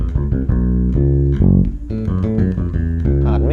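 Bass guitar plays a shredding line at a faster tempo, with quick successive plucked notes, a slide between phrases and a brief sustained note midway, close and loud with no talk.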